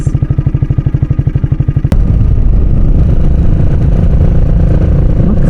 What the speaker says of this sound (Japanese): アイドリングでこんな大きな音になってます。